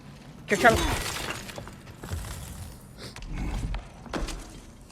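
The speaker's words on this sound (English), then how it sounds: "use the ice axe to break the ice." Ice cracking and shattering under an ice axe in God of War Ragnarok, a sharp breaking burst near the start followed by a few softer thuds and crunches.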